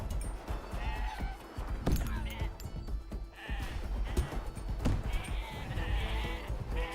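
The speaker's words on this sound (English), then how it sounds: "Just soak up all these sheep." Several sheep bleat repeatedly in a video game, moderate-level cries overlapping amid game sound effects and a busy background, some bleats nearer and others more distant.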